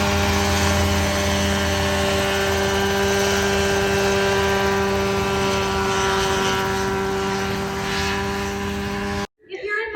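An ultralight helicopter flown at Oshkosh 2025 gives off a loud, steady rotor and engine drone with a constant tonal hum, close and continuous, before cutting off abruptly near the end.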